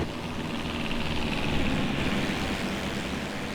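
A propeller airplane engine at reduced power drones steadily on approach in the Flight Unlimited III flight simulator, a constant broad whirring hum with no voices.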